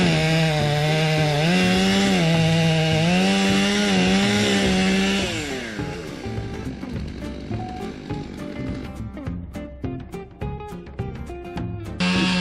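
A chainsaw roars at full revs while cutting a notch chip out of a walnut tree, loud and near, then the engine drops to a rough idle with scattered knocks and wood creaks.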